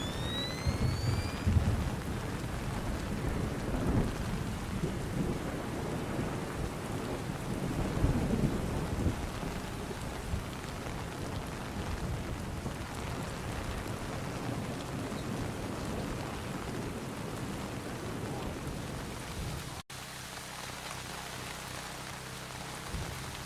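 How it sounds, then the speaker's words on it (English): Heavy rain pours steadily in a game level of Splinter Cell: Chaos Theory, with thunder rumbling loud and close near the start and again around the eighth second, then the downpour continues as a dense, even wash. "Man, it's really raining."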